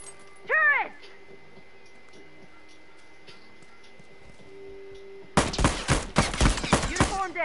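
Turret fire in The Last of Us multiplayer, a loud rapid string of automatic shots that starts abruptly after a quiet stretch with a brief voice call and keeps hammering to the end.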